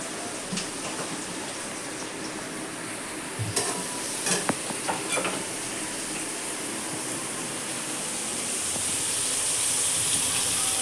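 Finely chopped onions frying in a pan, a steady broadband sizzle with a few louder stirring clatters in the middle, the hiss swelling toward the end; no talking.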